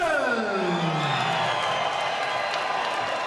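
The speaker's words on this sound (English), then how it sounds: "We hear the ovation from the crowd" A dense crowd roars and cheers in an ovation for fighter Eric Perez at the CFC 3 fight event. The noise is loud and steady throughout, with falling whistle-like tones over the cheering.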